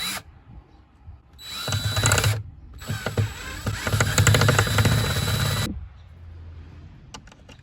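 A power drill drives screws into a Volkswagen Westfalia van, whirring in two sustained bursts with a ratcheting, grinding edge, separated by a short pause, loud and close, then a few faint clicks.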